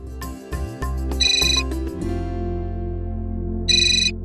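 A phone ringtone plays, a bright electronic melody with repeating high beeping tones over a steady low hum, loud and close.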